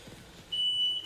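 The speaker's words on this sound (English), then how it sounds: "Oh, there you go. She's beeping." A Ryobi 42-inch battery-powered zero-turn riding mower gives a single steady electronic warning beep, close and clear over a low background hum.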